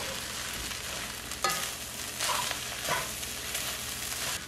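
Chinese fried rice being stirred in a hot pan, with continuous sizzling and frying and a few louder scraping stirs spaced through, close and steady with no voices.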